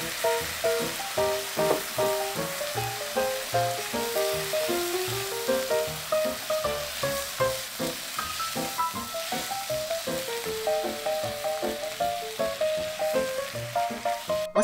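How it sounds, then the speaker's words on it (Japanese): Sliced pork for Tamori-style ginger yaki fries in a pan with its sauce, a continuous loud sizzle broken by rhythmic scraping as it is stirred, with light background music playing. "タレを入れて混ぜましょう。 タレがなくなる手前まで炒めます。"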